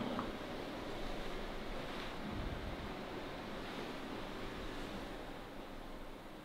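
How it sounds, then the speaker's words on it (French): Steady broadband rush of a river flowing outdoors near a derelict building, a continuous wash of water noise that stays loud and even throughout, with no voices. "il me semble que c'est la rivière hein, que j'entends"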